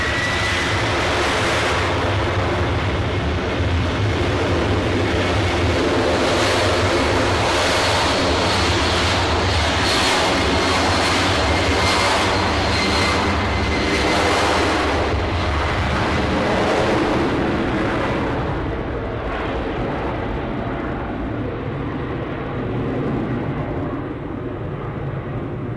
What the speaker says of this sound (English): Wheels up on that Delta Airways